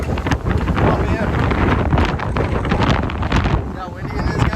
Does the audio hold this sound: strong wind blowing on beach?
yes